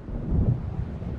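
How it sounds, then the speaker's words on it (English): Thunder from an approaching storm in Alan Wake Remastered rolls as a short, low, muffled rumble, fairly strong and with no voices. "It seems there's a storm coming."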